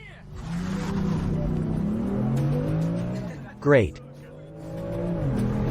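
A Tesla Model 3 Performance and a BMW M3 F80 Competition accelerate hard side by side, engine and motor tones climbing through gear changes, with a brief sharp squeal and a voice speaking over the cabin noise.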